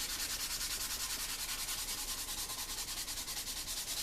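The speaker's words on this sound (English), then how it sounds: "I'm just going to sand." A rough scouring pad rubbed rhythmically across a table tennis rubber sheet, a steady close hiss of rapid even back-and-forth strokes, with no talking.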